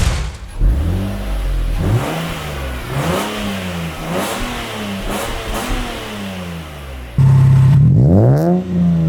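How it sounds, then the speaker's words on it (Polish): A Lexus IS200 inline-six engine revved repeatedly, its pitch rising and falling in steady swells, then a final sharper rev near the end; loud and close with no talking. "Mianowicie jest to z pewnością dźwięk silnika."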